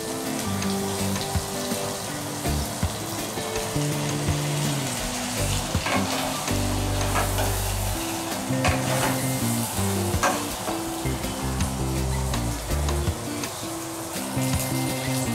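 Washed chicken pieces fry in a pan of spiced masala, cooked down with a little water, giving a loud, steady sizzle and crackle up close, broken by repeated stirring scrapes and clinks.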